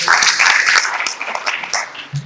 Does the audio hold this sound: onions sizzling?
no